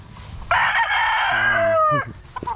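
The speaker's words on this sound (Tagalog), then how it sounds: "Ayan yung mga manok natin, oh." A rooster crows loud and close, one long drawn-out call that breaks off, with soft clucking from other chickens around it.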